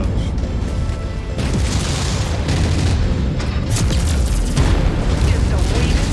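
Heavy rumbling booms and bursts roll through a demolition mission in a video game, loud and continuous, with a player talking over the blasts.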